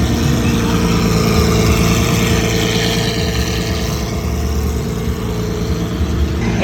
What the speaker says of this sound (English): Damn, a Lamborghini Aventador.